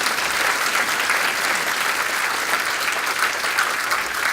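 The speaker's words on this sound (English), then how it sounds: "We'll just have applause for those" Steady, dense audience applause fills a hall during a city's State of the City address in Hillsboro, with sustained clapping throughout and no speech over it.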